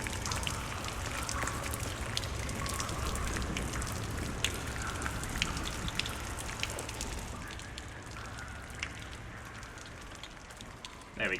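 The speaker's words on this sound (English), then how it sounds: "That should be a little better on the rain sounds" Rain in the video game Lies of P falls as a soft, steady patter with scattered drips and light crackles, quiet and continuous, with faint voice-like sounds in the background.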